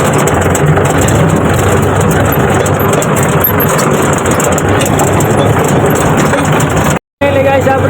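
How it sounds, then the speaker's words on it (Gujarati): Loud, steady tractor engine running and idling with a constant low rumble, heard close up, with voices over it before a brief dropout near the end. "તો આપણા ટ્રેક્ટર લઈને લઈ જઈએ આપણે ઘરે."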